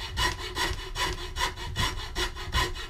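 Handsaw cutting through a wood blank being shaped into a carved spoon, steady back-and-forth strokes in a regular rhythm, close and fairly loud, with no talking.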